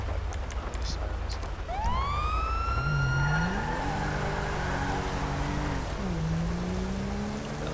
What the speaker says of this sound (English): let's turn on like the sirens